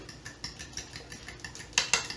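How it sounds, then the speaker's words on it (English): Eggs, cream, vanilla and cinnamon get a quick whisk in a cup, a run of light, evenly spaced metal clinks against the sides that turns brighter and sharper toward the end, fairly quiet and close. "get in there with a quick whisk."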